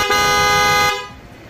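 A single steady car horn blast sounds loud and close for almost a second during a relay wiring test, then cuts off, leaving only faint background noise.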